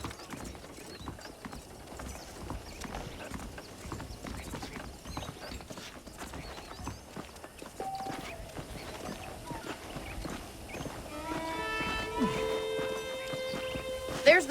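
Horses in the Red Dead Redemption video game clop steadily with hooves and tack rattling, under ongoing game sound, before a rising musical tone swells near the end.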